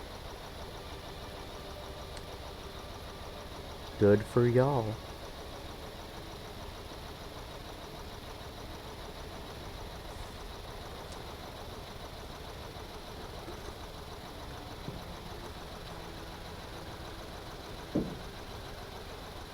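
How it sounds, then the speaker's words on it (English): A vehicle engine idles in a stormy driving game, a low steady rumble under faint background noise for the whole stretch, with a brief spoken remark early on and a couple of small knocks later. "If I had sound, I would have known my engine was idling."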